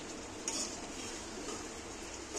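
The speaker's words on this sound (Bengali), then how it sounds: "অমনি নেড়ে নেড়ে কষানো হচ্ছে" Chicken stirred and fried dry in a pot for biryani, a soft continuous sizzle with occasional scrapes of a spoon against the metal, close and quiet with no talking.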